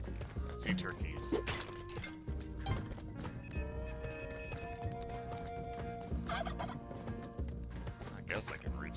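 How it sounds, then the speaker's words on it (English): Turkeys gobble repeatedly in the video game Spelunky 2, with clip-clop steps and other busy game effects mixed in, fairly loud and constant. "I hear turkeys."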